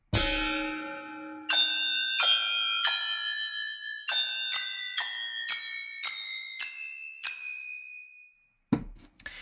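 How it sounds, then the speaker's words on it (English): Sampled bells from the ProjectSam Lumina 2.0 library ring out in a clear tonal melody, about a dozen bright struck notes that each decay with a shimmering ring, followed by a brief thump at the end. "Let's hear the Lumina bells."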